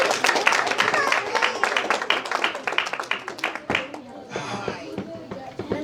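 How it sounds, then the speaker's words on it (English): Audience at an award night gala bursts into brisk, dense clapping that carries for several seconds before thinning into scattered claps, with voices murmuring underneath. "Clap for him now."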